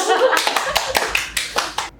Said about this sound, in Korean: 박수 칠까요?